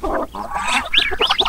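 A duck near a cage gives loud, close, raspy quacks in a rapid cluster of honking calls, with other fowl noise mixed in.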